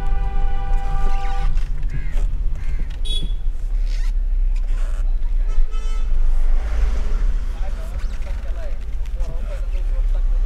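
Heavy traffic crawls along the Ratnagiri–Ganpatipule road near a bridge, with engines rumbling close by and short horn toots, while a person talks over the noise.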